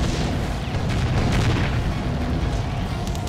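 Cannon towers in the tower-defense game Defense Grid: The Awakening fire heavy booming shots that merge into a constant loud rumble of blasts and impacts, with no clear gaps.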